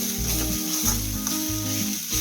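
Drumstick leaves (murungai keerai) sauté in a pan for poriyal with a close, steady sizzle and soft stirring scrapes, and no voices.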